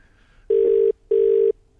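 Telephone ringing during an outgoing call, two long electronic ring tones with a short pause between them, loud and clear with no talk.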